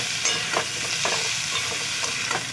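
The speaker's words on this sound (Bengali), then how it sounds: "ঝিঙেগুলোকে আমি খুব ভালো করে লাল লাল করে ভেজে নেব" Ridge gourd pieces fry in a pan with steady close sizzling, punctuated by a few scraping stirs of a spatula at irregular moments, with no voices.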